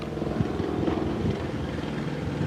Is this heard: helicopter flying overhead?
yes